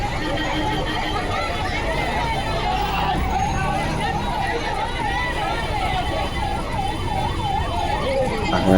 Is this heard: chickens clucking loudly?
no